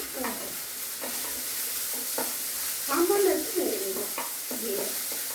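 Soaked sago fried and stirred in a pan for a sago payesh, giving a soft sizzle with repeated scraping strokes of a spoon; a short louder sizzling burst midway, no talk.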